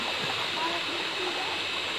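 A creek pours and rushes steadily where a swimming pool is being built in its bed, a loud continuous roar of flowing water with a voice faintly under it.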